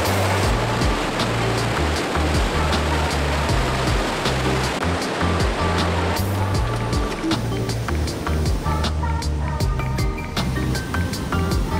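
Rushing snowmelt water pours through Maligne Canyon in Alberta, a steady, loud broadband roar of turbulent flow that holds unbroken for the whole stretch with no voices.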